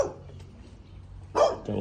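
A small dog in the back yard of a house in Collinwood, Cleveland, gives a short bark at the very start and a louder bark near the end, with quiet outdoor stillness between them.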